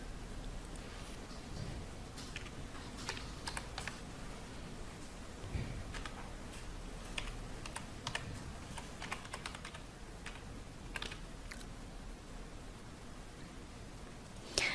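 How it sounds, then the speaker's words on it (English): Computer keyboard typing an email address, a quick run of light clicking keystrokes, soft and close, continuing steadily with no talk. "you enter the email address that you used to create the X account"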